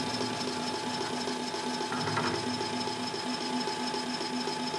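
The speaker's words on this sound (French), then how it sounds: "Le foret se met à tourner." Pillar drill press switched on with its bit spinning: a steady, close mechanical hum with a whirring, slightly rattling tone that holds constant throughout.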